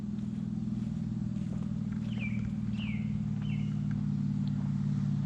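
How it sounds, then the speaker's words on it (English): A Ford LTD station wagon engine with part of its exhaust missing runs at a steady idle, giving a loud, continuous low rumble throughout, with a few faint bird chirps in the background. "it's missing part of the exhaust on this car, and it sounds like he's having a really good time"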